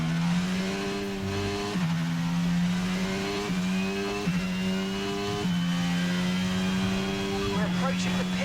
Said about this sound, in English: Oh, skidding about through that corner.